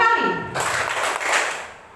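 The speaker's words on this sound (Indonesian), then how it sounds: "tepuk 3 kali" A group of participants at a classroom training session clap together in a burst of dense, steady hand-clapping that lasts over a second. A voice is heard just before it.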